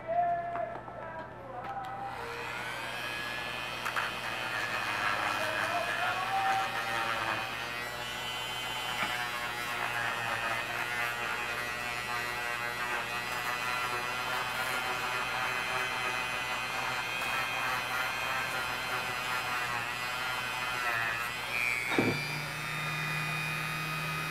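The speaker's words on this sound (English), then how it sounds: "I'm gonna file it a little bit down with the Dremel" A Dremel rotary tool files down a plastic custom figure, giving a steady high whine with a constant motor hum that runs almost without a break and ends abruptly near the close.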